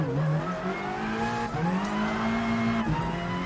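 Race car in the Gran Turismo Sport video game taking a corner at full throttle, engine note rising steadily with a gear change midway and faint tire squeal, continuous and close, without talk.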